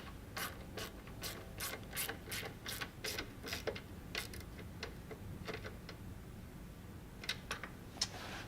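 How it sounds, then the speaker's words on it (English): A ratchet clicks steadily as it fully tightens a trailing arm mud flap bolt on a 2024 Can-Am Maverick R, a fast, close run of sharp ticks with brief pauses over a low background hum and no voices. "And we're just going to fully tighten that down."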